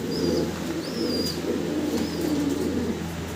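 Soft, low cooing of American Helmet fancy pigeons rolls on steadily against a constant background hum, with a few faint higher chirps above it.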